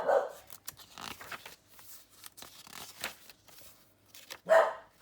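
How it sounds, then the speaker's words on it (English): A dog barks indoors during a junk journal craft session, with a sharp bark at the start and another near the end, over quiet rustling and handling of paper. "Sorry about my dog."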